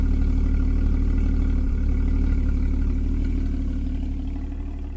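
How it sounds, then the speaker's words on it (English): A 2016 Porsche Boxster Black Edition's deep, throaty engine rumble idles steadily up close, with a low droning exhaust tone that fades slightly toward the end. "we'll listen to the exhaust for a second"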